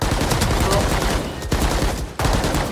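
Sustained automatic gunfire rattles from a weapon in a competitive online shooter match, loud and close, broken by a couple of short pauses before the bursts resume.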